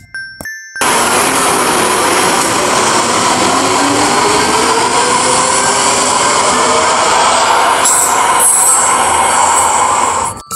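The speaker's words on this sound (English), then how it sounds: "This is Delhi Metro Rail." A Delhi Metro Rail train running close by, its loud steady rumble and wheel squeal with a faint metallic jingle holding for nearly ten seconds before it stops abruptly.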